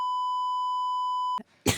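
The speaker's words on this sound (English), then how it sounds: "We've been beeping out his name when it comes up." A steady pure censor beep holds for over a second to mask a spoken name, then cuts off abruptly, followed by a brief breath and a burst of noisy sound.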